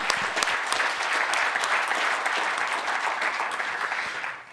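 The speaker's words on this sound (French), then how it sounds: "On va peut-être encore vous applaudir une fois." A seated audience applauds at an awards ceremony, sustained crowd clapping at an even level throughout, dense and continuous, dropping off only at the very end, with no voices over it.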